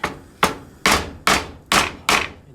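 Lemongrass stalks cut into one- to two-inch pieces are pounded flat, six sharp, loud whacks landing at a steady rhythm about every half second, each with a short decaying ring.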